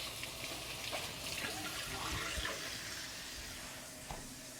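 Cabbage rinsed under a running kitchen tap, a steady broadband splash of water held at an even level throughout with small bumps as the leaves move under the stream.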